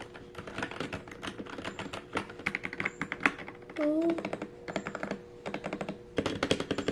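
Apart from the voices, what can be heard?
typing on a SteelSeries Apex 9 TKL mechanical keyboard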